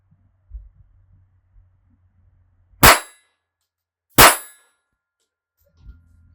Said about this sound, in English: I'm going to take these 7 shots at the steel target up there